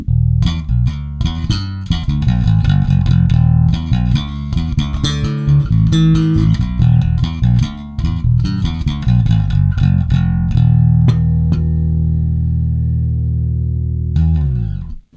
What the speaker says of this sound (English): I'm using a jazz bass with an active preamp